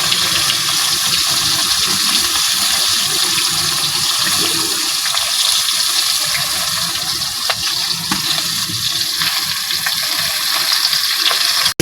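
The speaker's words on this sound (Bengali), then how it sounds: "মাছ ভাজি করে নিয়ে আসছে" Fish pieces and fish heads frying in hot oil for a Bangladeshi lau mach dish, giving a loud, steady, unbroken hiss and sizzle that runs the whole time with no talking.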